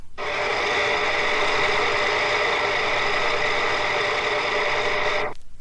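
Industrial gear-drive power transmission runs at 3000 RPM, producing a loud, steady mechanical whine with a layered harmonic hum that holds constant for several seconds before stopping abruptly.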